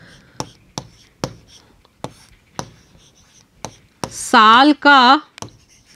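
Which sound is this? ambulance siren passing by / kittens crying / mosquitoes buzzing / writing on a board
writing on a board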